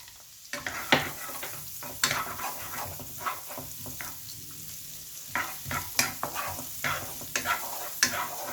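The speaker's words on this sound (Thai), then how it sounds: "แล้วก็ลงแครอทลงไปผัดนะครับผม" Stir-frying carrots in a hot pan: a steady sizzle with repeated scraping and clacking strokes of a spatula, close by and fairly loud, with no talking.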